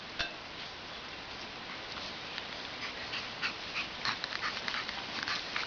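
Puppies sniffing and shuffling about, with light scratchy movement and small ticking clicks scattered over a steady near background hiss, no talking.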